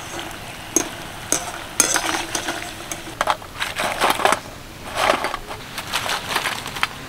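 Triangular flour nimki snacks fry in oil over medium heat, giving a steady close sizzle broken by bursts of stirring and scraping against the pan, no voices.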